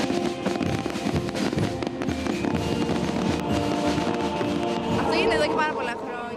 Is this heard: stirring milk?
no